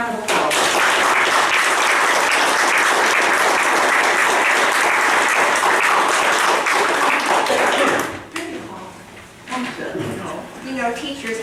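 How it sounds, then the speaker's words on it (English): Audience at a county fiscal court meeting gives retired teachers a sustained round of applause, loud and dense for about eight seconds before fading, after which a voice begins speaking. "let's give these folks a big round of applause."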